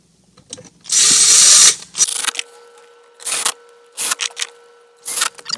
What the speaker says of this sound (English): Put all the screws back in.